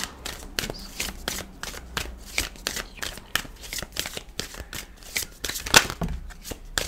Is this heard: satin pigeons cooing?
no